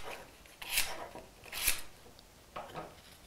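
A wooden furniture edge is distressed by hand, making three brief, close rasping strokes spaced about a second apart, with quiet in between.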